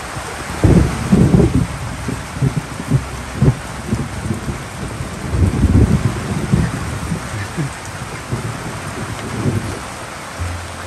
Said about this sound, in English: We got rain going on.